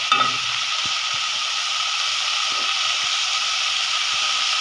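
Malabar spinach seeds and masoor lentils go into a frying spice paste in a pan, giving a steady, close, loud sizzle broken by a few faint clicks of stirring.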